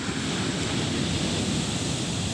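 Waves breaking on Pasir Tinggi beach near Sinabang, Aceh, in a steady, loud wash of surf with wind rushing across the microphone, with no voices.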